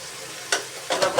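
Eggplant stir-fried in a pan with turmeric, giving a few brief bursts of sizzling and scraping stirs over a quiet background.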